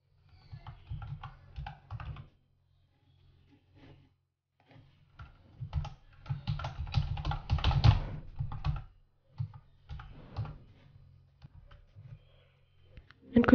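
Typing on a computer keyboard: bursts of quick, close key clicks with short pauses between runs, a denser flurry in the middle, and no talking.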